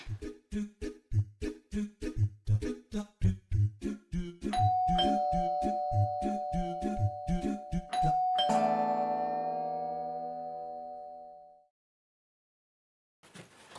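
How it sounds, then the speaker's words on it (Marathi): A doorbell rings with a rapid series of electronic chime notes, then sustained ringing tones that fade out, loud and close with no talk over it. "मैत्री, वाजू देत बेल."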